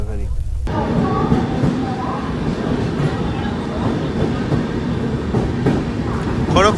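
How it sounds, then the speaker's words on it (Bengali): Shalimar Puri Express 22835 passenger train running at night from Kolkata toward Puri, heard from inside as a loud, continuous rumble and rattle of wheels and carriage, with voices talking over it. "ট্রেন ওই মোটামুটি কোলাঘাট ঢুকবে"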